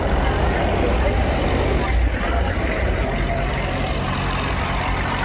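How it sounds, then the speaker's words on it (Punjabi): A generator runs with a steady, loud engine drone and low mechanical rumble throughout, crowd noise and voices mixed in the background at a religious fair. "ਜਨਰੇਟਰ"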